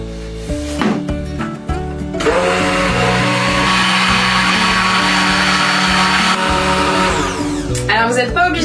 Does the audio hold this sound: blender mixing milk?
yes